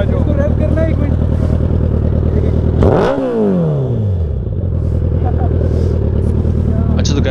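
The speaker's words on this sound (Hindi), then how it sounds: "इसको रेव करना एक मिनट।" A motorcycle engine revs loudly up close, one sharp rise and fall of pitch in the middle, over a continuous idle rumble with chatter and speech around it.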